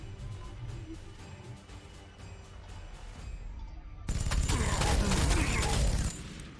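Gunfire in Warhammer 40,000: Sanctus Reach, the Space Wolves shooting enemies: scattered distant shots at first, then a sudden loud sustained barrage of rapid fire and explosions.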